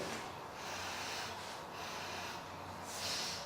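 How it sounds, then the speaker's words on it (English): Soft, close sniffing breaths drawn in through the nose over dry tea leaves, repeated a few times over a quiet hiss. "Let's give this a quick sniff."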